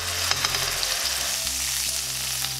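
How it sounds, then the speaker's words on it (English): Burgers fry in hot olive oil in a pan, producing a loud, continuous sizzle with a low hum underneath and a few brief spatters. "fry your burgers"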